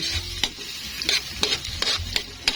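Ginger, garlic and onion sauté in hot oil, with a steady close sizzle and a few sharp spatula strokes against the pan.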